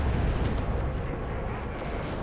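An Orbital Strike explodes in the real-time strategy game Dawn of War 2, crashing down on Wraith Guards and a D-Cannon as a loud, dense, rumbling blast that roars steadily throughout.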